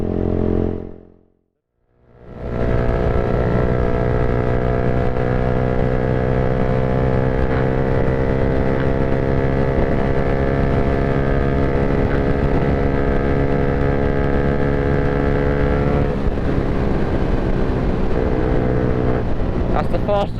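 A motorcycle on brand-new tyres runs at speed with a strong steady engine drone and rushing wind buffeting the microphone, easing briefly at the start before holding high revs.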